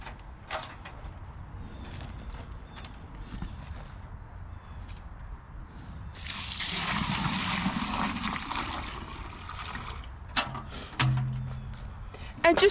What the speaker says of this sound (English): now I'm going to go ahead and dump this water in here.